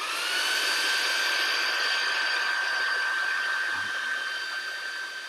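A hair dryer on its low first setting blows a steady, loud whoosh with a constant whine, holding a floating ping pong ball, easing slightly near the end.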